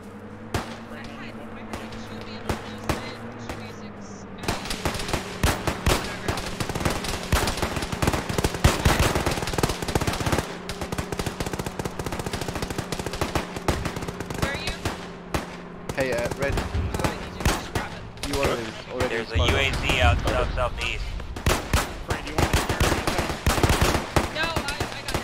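Sustained automatic gunfire in Arma during a ShackTac squad firefight, dense rapid shots and machine-gun bursts rattling continuously after a quieter start, with distant reports mixed in.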